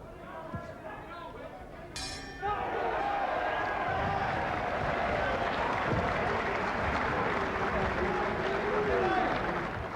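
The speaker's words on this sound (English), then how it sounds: "Crowd like it." Arena crowd at a boxing bout at a hotel casino in Wild Coast, South Africa, roars and applauds in a sustained wash of cheering that swells sharply after a brief clink, while a commentator talks over it.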